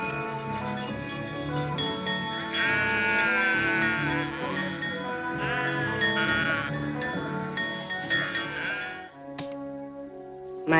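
Sheep bleat in wavering, drawn-out calls over a continuous bed of music, several cries rising and falling between sustained tones, with no talking.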